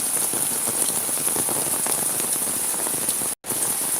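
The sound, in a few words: heavy rain falling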